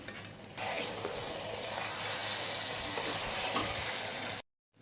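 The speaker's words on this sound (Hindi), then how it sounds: "एक दफ़ा अच्छे से चम्मच हिला देंगे।" A spoon stirring masala okra in a pan, with a steady soft sizzle and scraping stir noises at moderate level, ending abruptly in silence.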